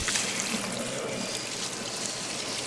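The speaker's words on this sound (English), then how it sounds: "we're going to rinse them in cool water" Potatoes and coriander rinsed under cool running water, a soft continuous trickle and splash, fairly quiet and steady with no talk.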